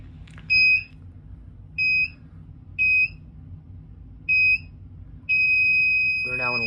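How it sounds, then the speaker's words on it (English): Radionics D9412G alarm system keypad sounding entry delay beeps, four evenly spaced clear tonal beeps followed by a sustained tone, with a voice starting near the end. "We are now in entry delay."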